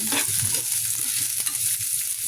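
Ginger, garlic and onion sauté in a hot pan with a loud, steady frying hiss and faint low clinks of stirring throughout.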